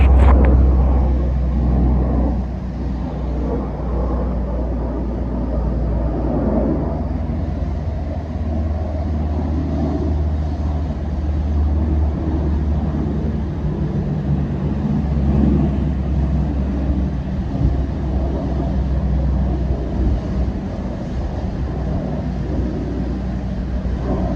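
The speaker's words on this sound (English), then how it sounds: "Some airplanes." Airplanes pass overhead as a continuous low, broad rumble that swells and eases over many seconds, steady and moderately loud with no talk over it.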